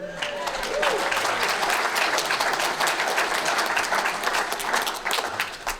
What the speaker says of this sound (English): Don't clap, I'm not done yet.